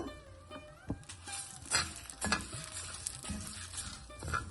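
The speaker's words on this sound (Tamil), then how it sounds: "அந்த எண்ணெயில் உளுத்தம்பருப்பு கடலைப்பருப்பு மிளகா எல்லாத்தையும் நல்லா வறுத்துக்கணும்" Urad dal, chana dal and chillies fry in sesame oil, giving a steady close sizzle broken by spoon scrapes and small clatters as the mix is stirred.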